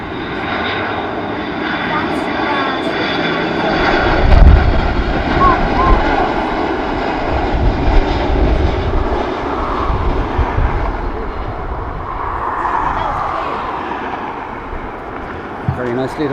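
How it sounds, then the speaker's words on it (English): An Aer Lingus Airbus A330 jet in retro livery passes at Dublin Airport, its engines roaring loud and continuous with a swell near the middle, while a person talks over the noise. "Aer Lingus A330 retro livery"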